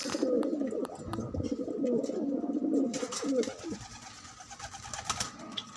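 Tippler pigeons coo close by in a string of soft, throaty rolling calls over the first few seconds, then quieter scattered sounds and faint clicks follow.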